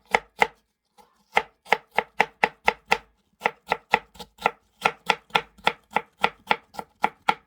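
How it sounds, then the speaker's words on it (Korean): Knife julienne-cutting fruit on a cutting board while preparing fruit wine, a brisk run of sharp, evenly spaced chops in quick bursts with a short pause partway, close and loud with no talking. "채를 썰어요"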